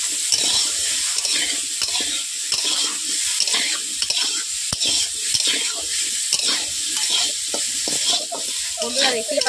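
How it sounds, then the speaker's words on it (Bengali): Sweet potato pieces with salt fry in a pan, giving a steady, close sizzle throughout, broken by repeated stirring scrapes and clinks. "রাঙালুগুলোকে একটু লালচে করে ভেজে নিচ্ছি।"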